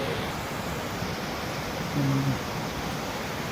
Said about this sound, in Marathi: पाऊस पण खूप जोरात पडून गेले असतात त्यामुळे नदीला खूप पाणी आलं आहे